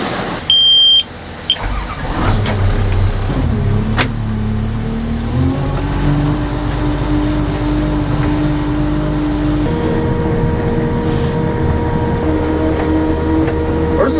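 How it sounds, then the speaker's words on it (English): A bulldozer engine cranks over with a short electrical whine, catches and settles into a loud, steady diesel idle that rises slightly in pitch partway through, with no talking. "I'll start the dozer, get it out of the way"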